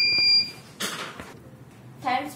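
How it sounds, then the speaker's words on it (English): A door alarm buzzer triggered by an IR sensor gives a short high-pitched electronic beep at the start, followed by voices talking nearby. "The door opens, IR sensor is sensed and the buzzer is buzzing."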